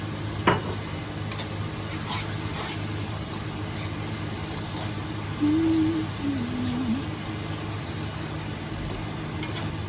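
Sweet and sour sauce sizzles with vegetables in a hot pan, a steady low frying hiss with a few faint clicks of a utensil, heard close up.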